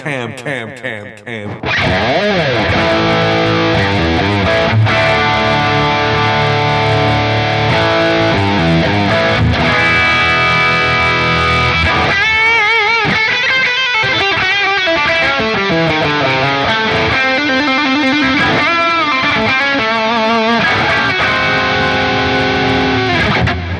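Sparkle Burst Les Paul electric guitar played through distortion, loud and sustained, with chords and riffs ringing continuously for over twenty seconds, then shifting into faster picked passages toward the end.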